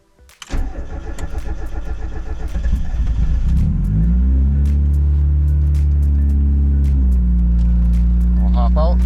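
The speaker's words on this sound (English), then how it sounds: "The AFR gauge will read very rich for startup because warm-up enrichment will come on. But yeah, we'll crank it over." A turbocharged car engine with a reworked turbo down pipe cranks briefly with rapid starter chugs, catches and settles into a loud, steady idle that holds for several seconds, with a short higher-pitched flutter near the end.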